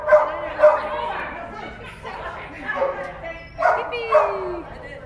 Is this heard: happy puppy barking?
yes